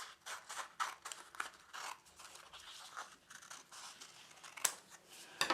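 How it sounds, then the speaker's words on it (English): Scissors snip through spare card while a pop-up Christmas tree card is being made: a quiet, close run of crisp cuts with short scraping rustles between them, and no talking. "I'll just cut all this spare off here."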